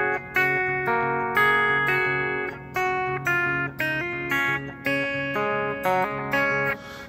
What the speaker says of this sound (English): there's another little chord progression which sounds like this.